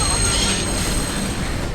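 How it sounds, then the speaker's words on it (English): A train rolls past in the horror game Close to the Sun, a steady dense rumble with a faint high metallic whine running throughout at close range. "Train."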